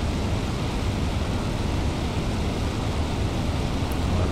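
Fw 190 piston engine roaring steadily at full power during a takeoff run and lift-off in a flight simulator game, a dense continuous drone held at constant loudness throughout with no voices.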